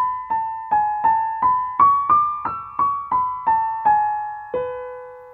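Solo piano plays a phrase from a piece, with about eleven clear single notes struck at an even pace that rise and then fall. The final note is held and left to ring out.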